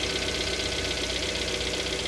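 A 2.4 liter MultiAir engine idles with a steady light ticking over its continuous mid-range hum, close and even throughout with no talk.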